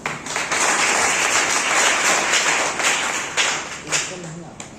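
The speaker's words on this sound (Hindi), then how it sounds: "तालियां।" Sustained applause from an audience at a polytechnic college competition prize announcement, dense steady clapping filling the whole stretch and thinning slightly toward the end.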